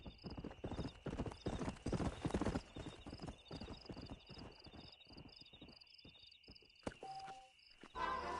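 A horse in the Western video game Red Dead Redemption trots with a steady, close clip-clop of hooves, the beat slowing later before a short whinny-like sound near the end.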